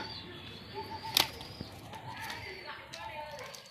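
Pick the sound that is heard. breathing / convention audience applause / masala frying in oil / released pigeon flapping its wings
released pigeon flapping its wings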